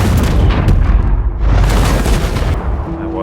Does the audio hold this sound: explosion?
yes